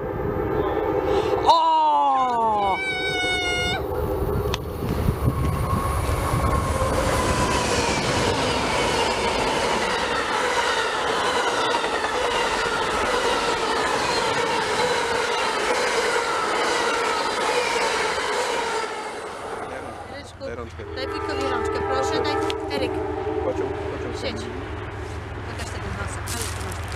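An Amtrak passenger train passes close by: a loud horn blast sounds first, then a long, steady roar of rolling cars and wheels that eases near the end, with people's voices heard around it.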